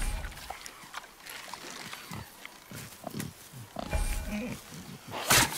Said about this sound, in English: The wild boar's hide is thick.